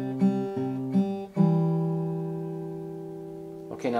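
Acoustic guitar picks a C pattern, thumb and finger pinching the strings together: a few plucked notes, then a sustained ringing chord that slowly fades, ending with a fresh strum.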